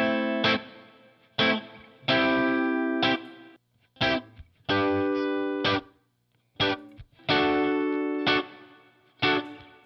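Electric guitar track run through an amp-simulation plugin, giving distorted, chorus-tinged chord stabs that ring out and stop in short repeated bursts with silences between, clean and up front.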